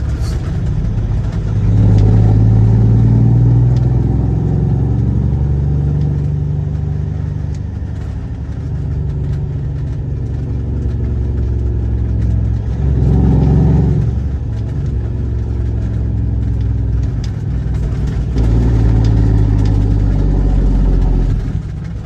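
Kenworth W900 truck backing in at a shipper's lot, a deep diesel rumble that swells and eases over twenty seconds, with revs rising around the middle and again near the end.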